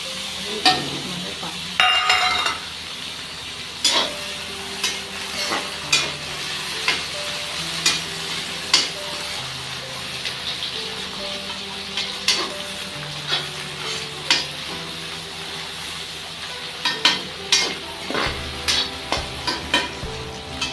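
Chopped tomatoes fry in a pan for a snake gourd curry, giving a continuous sizzle. A spoon scrapes and clatters against the pan in irregular strokes throughout, close and moderately loud.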